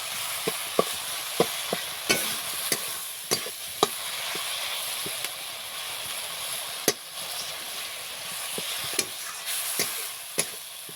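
Spice masala for a village-style fish curry sizzles in a pan under a constant frying hiss, punctuated by sharp spoon clacks and scrapes as it is stirred, close and without any voice.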